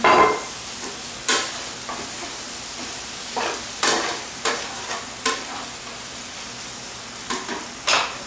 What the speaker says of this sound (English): I'm going to add a little olive oil to our pan just to get those going.